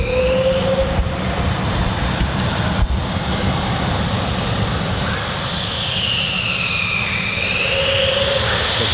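A military jet, an F-15 or F-35, roars steadily on its takeoff run from short runway 24 at RAF Lakenheath. The engine sound is loud and sustained, with a high whine sweeping through it, and no voices are heard.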